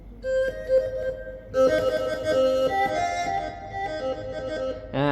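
A Yamaha Tyros4 keyboard plays a sustained melody in a Thai fiddle voice, bowed-sounding notes sliding and wavering over soft accompaniment, with no talking.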